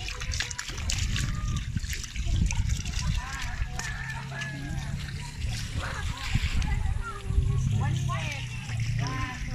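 Water splashes and trickles in a resort swimming pool, a steady nearby sloshing with people talking over it throughout.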